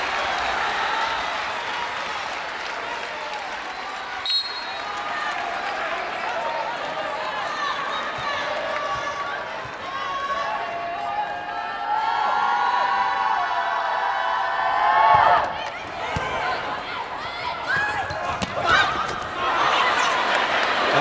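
A crowd at a 2018 women's college volleyball tournament match between Oregon and Minnesota cheers and applauds in a big arena. The noise swells into a loud roar near the end, under steady commentary.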